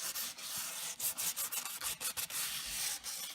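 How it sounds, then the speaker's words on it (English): Close, quiet scratchy rubbing of hand-held sandpaper against the wooden edges of kitchen cabinets, in quick back-and-forth strokes with a steady rhythm. "So I have the sandpaper in my hand to kind of do these edges"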